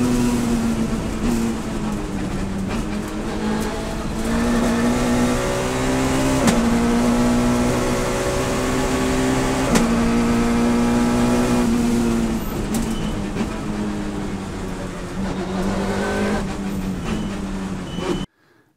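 A Citroën Saxo Kit Car rally car is driven fast on a stage at Thiviers, its engine loud and close throughout, pitch climbing and dropping sharply through gear changes and revs before cutting out at the end.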